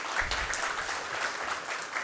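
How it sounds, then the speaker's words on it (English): Convocation audience applause, a dense, even wash of many hands clapping at moderate loudness throughout a short stretch, with no voices over it. "please have a special applause for these kind of parents"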